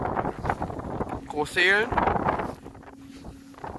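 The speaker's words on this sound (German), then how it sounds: "Und wieder Wind." Gusty wind blows across the open ground of a wind farm of Vestas V90 2 MW turbines at Groß Hehlen/Hustedt, buffeting the microphone as a steady broadband rush while someone talks over it.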